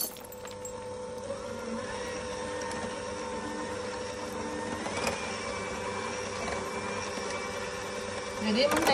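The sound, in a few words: electric mixer beating butter for layer cake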